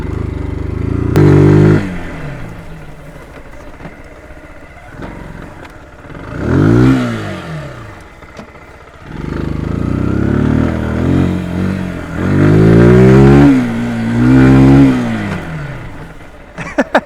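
A Zontes ZT125-U1 125cc motorcycle revs while being ridden, its small engine rising and falling in pitch through several loud throttle sweeps, close to the rider with wind noise between pulls.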